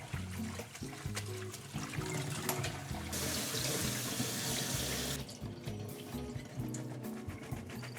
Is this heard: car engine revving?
no